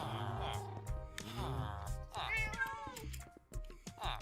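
Several cat meows from Minecraft, bright pitched cries spread across a few seconds over a game's background sounds.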